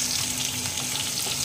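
Mustard seeds and cumin spluttering in hot oil in a pan, a steady close sizzle with fine crackling pops throughout, no voices.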